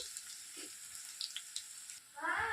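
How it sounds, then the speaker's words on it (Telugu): Potatoes frying in a pan for homemade poha upma, a steady soft sizzle running throughout with a louder burst of hissing near the end, close and without talk. "ఇప్పుడు బాగా వేగేయండి కొంచెం బంగాళదుంపలు"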